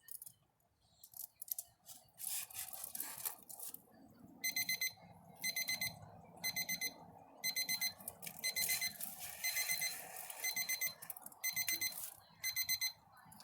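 A meat probe thermometer alarm on a grill cooking a foil-wrapped pork butt beeps in repeated rapid bursts of high electronic tones, separated by short pauses, fairly close, with faint background noise between.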